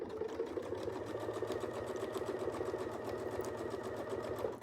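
Sewing machine stitching a quilt block, a fast steady mechanical chatter of the needle running continuously at close range for several seconds, fairly quiet.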